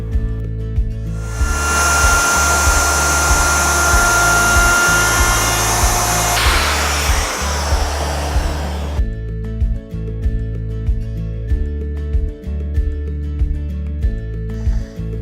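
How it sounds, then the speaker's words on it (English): A handheld router cuts an edge profile along the top edge of a workpiece clamped on a Festool MFT table, a loud sustained whine for several seconds that then drops into a lower motor hum with intermittent bumps. "Now I can route an edge profile on the top edge, which is a tricky profile to route."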